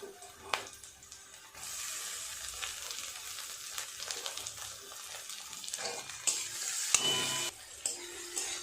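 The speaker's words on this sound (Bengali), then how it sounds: "পেঁয়াজটা আরেকটু ভেজে নিয়ে দিয়ে দেব টমেটো কুচি।" Onion and chopped tomato fry in hot oil in a pan, a loud crackling sizzle that bursts in after a short pause, with spatula stirs and scrapes, close by.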